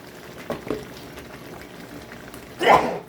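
Tomato sauce is stirred into a pot of simmering Filipino callos, with soft bubbling throughout and a louder wet slosh near the end as the sauce goes in.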